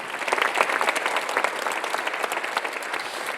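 A church congregation bursts into sustained applause during a Sunday service, many hands clapping steadily at moderate volume for a few seconds.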